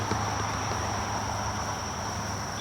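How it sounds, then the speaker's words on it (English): A mass of honey bees buzzes steadily while being scooped from a bucket into a cup for an alcohol-wash mite test, a continuous close insect hum with no talk. "we're gonna scoop up some bees"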